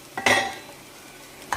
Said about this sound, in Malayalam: അവൽ ചേർത്ത് നന്നായിട്ട് ഇളക്കുക.